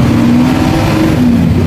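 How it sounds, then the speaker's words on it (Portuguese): Front-mounted engine of a homemade motorhome running at a steady, low idle hum close by, with someone talking over it throughout. "Então faz um barulhinho. O motor é de frente."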